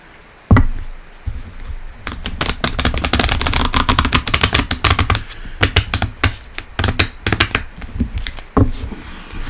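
Steady keyboard typing, a rapid run of close, crisp key clicks with short pauses, fairly loud and alone with no talk.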